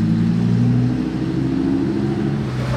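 Lamborghini STO sports car engine roaring loud and close with a sustained, deep rising rev in a street in Monaco.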